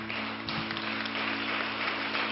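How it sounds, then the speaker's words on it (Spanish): A church congregation applauds during a sermon, a steady wash of clapping heard at moderate distance over a constant low hum, with no talking. "Denle un aplauso al Señor."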